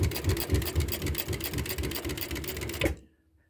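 Consew 225 industrial leather and upholstery sewing machine driven by a servo motor set at 200, stitching in a steady rapid mechanical rhythm, loud and close, then stopping abruptly near the end.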